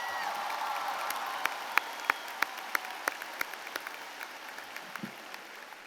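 Applause for a graduation speech at a Hillwood High 2014 commencement: a steady wash of crowd clapping with a few sharp, loud individual claps standing out, slowly tapering off toward the end.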